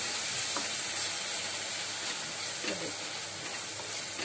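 Yogurt sizzles in a pan over low gas while cooking aloo makhana sabzi, making a steady broadband frying hiss with faint stirring scrapes and no voices.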